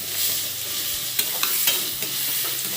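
Onions sizzling steadily in hot oil in a home kitchen pan for a chicken dish, a continuous bright hiss with a few sharp stirring clicks of a utensil, close and alone without talk.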